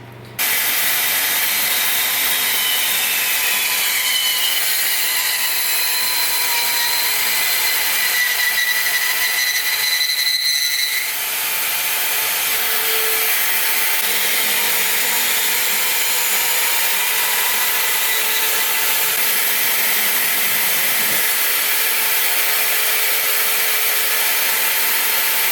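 A section of pipe is cut with a tool, a steady rasping, grinding rhythm that runs close and continuously for the whole stretch with a brief pause near the middle and no talking.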